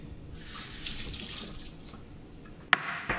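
A kitchen tap runs into a glass, a soft splashing stream that rises and fades, then a sharp clink of the glass and a small knock at the end.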